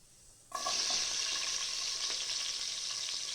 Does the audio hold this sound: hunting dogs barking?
no